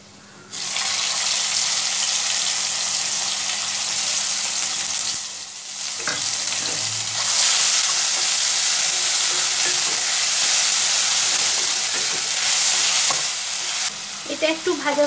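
Garlic, tomato and onion paste dropped into hot oil, a loud continuous sizzle that swells after a quiet start, with stirring clatter and a brief dip midway.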